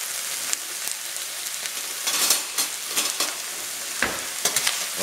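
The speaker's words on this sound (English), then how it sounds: "want to mix these around a bit. Just like that, yeah. Toss them a little bit." Onions and pole beans with a splash of balsamic vinegar are tossed and stirred in a hot pan, giving a steady close sizzle with scraping stir strokes and a few sharper clatters.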